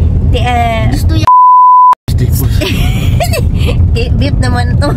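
A single steady censor beep tone lasts about two-thirds of a second, cutting sharply into the middle of continuous talk with background noise before and after.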